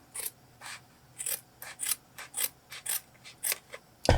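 A small piece of leftover carpet with a rubbery backing is cut in a series of crisp, rhythmic snips close up, about a dozen strokes in quick succession with no talking.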